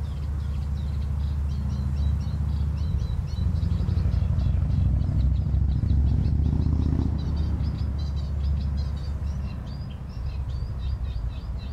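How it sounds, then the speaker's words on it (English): Reed warbler singing in a Dutch wetland beside a busy road, its rapid, chattering phrases running continuously over a loud, steady rumble of passing traffic. "I'm just near to the road, the busy road, and the reed warbler doesn't seem to care at all."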